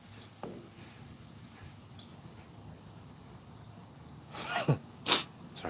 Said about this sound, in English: I was trying to sneeze and it wouldn't come out.